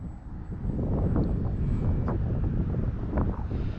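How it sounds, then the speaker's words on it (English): Strong wind buffets an outdoor field where model gliders are flown for crosswind landings, a steady loud low roar across the microphone with gusty swells throughout and no talking. "And the wind is strong enough to where I don't want to risk"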